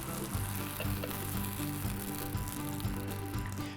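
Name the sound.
peaches sizzling on a grill after flipping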